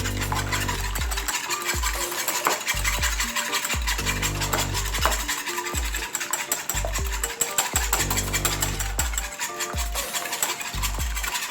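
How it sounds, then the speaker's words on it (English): Eggs being whisked hard in a bowl for an egg omelette, a steady run of quick scraping, rasping strokes repeating at a fast, even rhythm, close up and alone without talk. "now we have to give this a good beating. So we're gonna whisk away"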